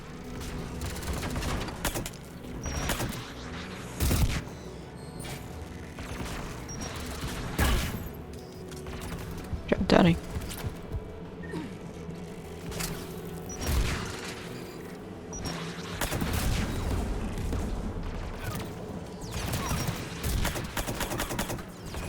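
Geth anti-aircraft guns in Mass Effect 3 fire in a stream of repeated booms and rattling bursts, some loud and some more distant, over a mechanical rumble, with a few brief spoken words.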